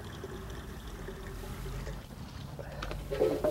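Liquid root stimulator mixed with water pours from a watering can onto a potted rose, a steady close trickle and splash that grows louder and fuller toward the end.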